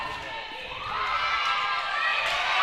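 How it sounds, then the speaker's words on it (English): A crowd at a middle school volleyball championship cheers and shouts in a gym, a steady wash of voices that swells louder toward the end. "you can hear the crowd"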